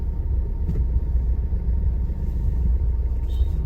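Tipper trucks drive along a road, a loud, steady low engine rumble with tyre noise that holds close and continuous throughout, with no talking over it.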